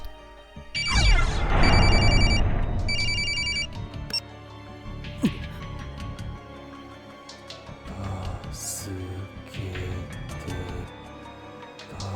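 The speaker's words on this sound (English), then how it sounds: "The phone suddenly rang and he answers it." A cell phone rings inside a gory Japanese horror video game, two bursts of an electronic trilling ringtone amid a crash and eerie background sounds, then quieter ambient tones.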